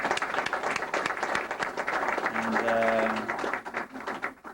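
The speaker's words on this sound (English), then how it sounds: "I'd like to give Al a nice round of applause" An audience at a dedication ceremony applauds in a dense, continuous patter of many hands clapping, held steady for several seconds before tapering off, with a brief tone sounding in the middle.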